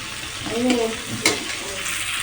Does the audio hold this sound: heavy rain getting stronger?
no